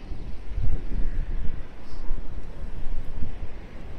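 Strong gusting wind buffets the microphone on the Blackpool promenade during Storm Barra, a dense low roar that rises and falls in steady waves throughout, loud and close with no voices.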